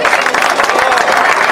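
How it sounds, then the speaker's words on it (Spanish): At a year-end party awards ceremony, a crowd applauds a prize winner with loud, close, dense clapping, and voices mingle in the noise. "Un aplauso, por favor."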